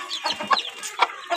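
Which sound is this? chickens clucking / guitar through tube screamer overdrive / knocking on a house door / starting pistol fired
chickens clucking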